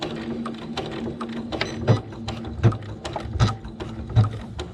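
A sewing machine stitches a back stitch on a pillow cover with an invisible zipper, giving a quiet mechanical whir with rhythmic clicks and several stronger thumps at roughly regular intervals, close and without voices.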